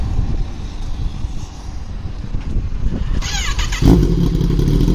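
Kawasaki Ninja ZX-10R superbike fitted with a custom Austin Racing exhaust, a loud close engine rumble that swells and shifts pitch, with a sharp rev jump near the end.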